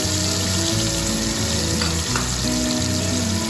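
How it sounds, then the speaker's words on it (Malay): Sliced big onions sautéing in hot oil for sambal ikan bilis tempoyak, a dense continuous sizzle close up with a steady low hum underneath and a couple of faint stirring clicks. "Saya mulakan dengan menumis bawang besar yang telah dihiris-hiris tadi."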